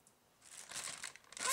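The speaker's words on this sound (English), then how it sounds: "Then add the chicken wings in the bag." Chicken wings drop into a plastic bag of potato starch, giving a short burst of close, soft crinkling and rustling that briefly pauses and then rises again.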